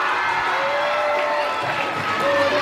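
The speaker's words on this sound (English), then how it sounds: "We give them more round of applause." An audience at a school house closing ceremony cheers and applauds trophy winners in a steady, dense wash of claps and crowd noise, with some shouting on top.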